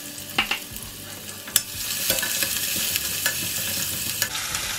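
Chopped garlic and ginger fry in a hot pan for a duck egg roast, a steady sizzle broken by several sharp scraping stirs of a spoon against the pan, close and with no voices.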